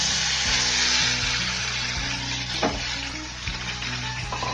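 Tomato puree hits a hot pan and sizzles loudly, a steady frying hiss with a few stirring scrapes and bumps, close and alone with no talk, while making Sindhi seyal phulka.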